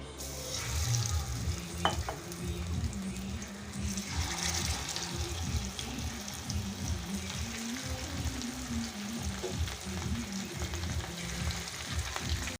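Fish frying in a pan in a Kerala home kitchen, with a continuous crackling sizzle and occasional clinks of utensils moving against the pan, all fairly close.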